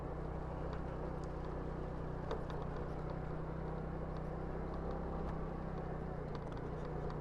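A Kymco Like 125 Italia scooter climbs an unpaved road, its engine giving a steady, moderately loud drone with faint rattles and bumps over the rough surface, with no talk.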